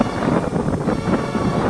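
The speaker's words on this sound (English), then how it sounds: "It's pretty windy." Wind buffets the microphone in a continuous low rumble on the Mawson Trail while cycling, gusting unevenly with no voices present.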